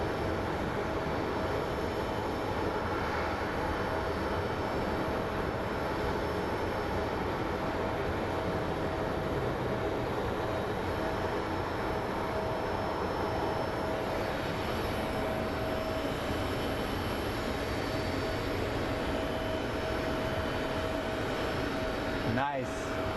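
An airliner arrives from New Orleans at an airport, producing a continuous loud engine roar that stays steady across the whole stretch, with a sharp brief noise near the end.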